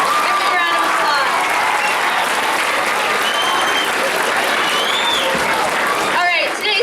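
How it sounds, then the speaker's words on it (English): Loud, sustained applause from a school Veterans Day program audience fills the room evenly, with voices and cheers in the crowd and the clapping tapering off at the end. "a round of applause."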